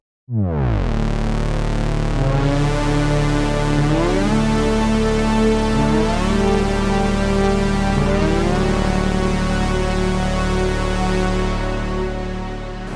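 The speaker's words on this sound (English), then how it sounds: "the first sound you hear when you fire up the OB-X is pretty amazing." A rich, brassy GForce Oberheim OB-X software synth preset plays sustained chords that shift and glide, loud and full, slowly fading at the end.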